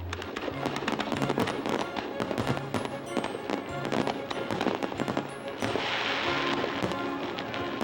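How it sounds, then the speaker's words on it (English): Rapid bursts of Fourth of July fireworks over Newport crack and boom in a dense, continuous barrage, with some crackling sparkle and faint voices in the background, heard from a ship. "we had a spectacular view of Newport's 4th of July fireworks"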